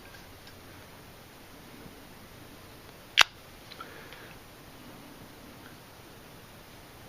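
Zippo Sherlock Holmes pipe lighter lid snaps with one sharp, loud metallic click, followed by a couple of faint softer clicks amid quiet room hiss.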